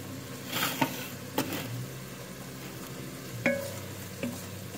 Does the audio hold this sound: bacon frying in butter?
yes